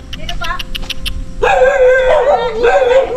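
Several dogs barking in the open on a muddy roadside, a string of short barks at the start followed by a louder stretch of mixed yelping and howling, with people talking nearby.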